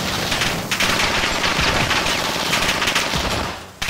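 Rapid automatic gunfire in a multiplayer shooter video game, loud dense bursts of shots that run almost continuously and then break off sharply near the end, with no talking.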